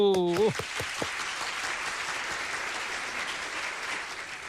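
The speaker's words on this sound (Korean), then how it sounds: "박수" An audience at a radio lecture on spatial computing breaks into applause to welcome the speaker, a brief voiced tone opening it before steady, moderately faint clapping fills the rest.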